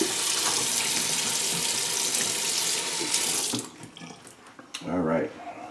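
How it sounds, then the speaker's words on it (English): An alum block is rinsed under a running tap, giving steady, close faucet water splashing for about three and a half seconds before the flow cuts off, followed by a few faint handling clatters. "So I'm going to rinse the alum off."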